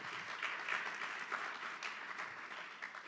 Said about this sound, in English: So you should give yourselves a big round of applause for making history.